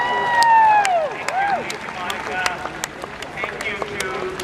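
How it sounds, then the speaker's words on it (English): Crowd at an outdoor rally in San Francisco applauding and cheering, scattered claps and voices near and far, with whistle-like tones sweeping through early on. "let's give him a round of applause"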